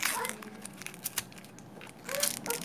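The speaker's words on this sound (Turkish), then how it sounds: "Şöyle yırtarak açalım direkt." Foil wrapper of a Kinder-style surprise egg being torn open by hand, close crinkling and rustling in short bursts with a louder crackle near the end, a voice faintly audible.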